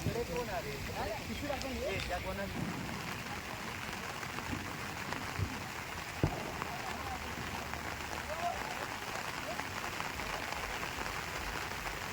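Steady rain falls outdoors in the Konkan after a Ganpati immersion, a continuous even hiss at moderate level with faint voices in the background.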